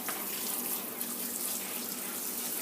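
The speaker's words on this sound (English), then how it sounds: "Now, I rinse mine, so I put mine in this red colander to rinse them." Tap water runs steadily over canned beans in a red colander, a continuous close hissing splash with no talking.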